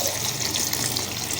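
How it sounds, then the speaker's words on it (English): Water pours into a pot of cooking soup in a steady, splashing gush, close and fairly loud, running unbroken with no talk. "I'll be adding water"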